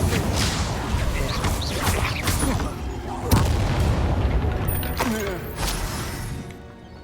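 Incendio fire spell cast in Hogwarts Legacy, several booming, crackling impacts with whooshing flares spread across the clip, loud and close amid busy combat noise.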